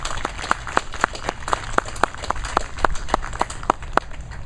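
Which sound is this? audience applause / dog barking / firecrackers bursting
audience applause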